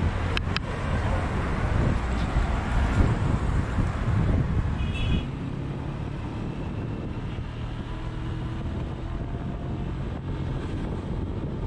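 Wind and engine rumble roll past while riding a scooter taxi through the streets of Alexandria, Egypt, a steady loud roar with traffic noise that eases to a lower constant drone halfway through.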